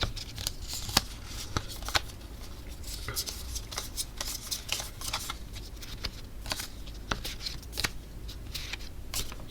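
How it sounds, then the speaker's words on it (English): A deck of playing cards is shuffled during a tabletop card game, a steady crackling riffle of quick flicks and rubs lasting several seconds, close and fairly quiet, with no voices. "the rest are shuffled into the deck"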